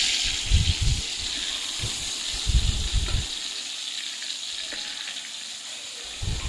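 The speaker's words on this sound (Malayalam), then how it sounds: "അത് ചൂടായി കഴിയുമ്പോഴേക്കും നമ്മൾ ഓരോ മീനായിട്ട് ഇട്ട് കൊടുക്കാണ്." Fish frying in hot oil in a pan, a steady bright sizzle and hiss with low bubbling pops underneath, close and continuous, with no talking.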